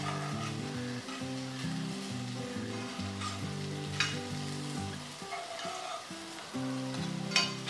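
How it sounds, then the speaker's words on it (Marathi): Chicken tikka pieces sautéing on a tawa give a continuous sizzle and fry, with intermittent stirring scrapes and clatter throughout and no talk. "आता आपण काय करायचं आहे की हे परतून घ्यायचे"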